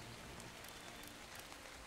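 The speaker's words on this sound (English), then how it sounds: "It's raining." Rain falls steadily in the game Dark and Light, a soft, even hiss of drops on surfaces that stays faint and constant throughout, with no talking.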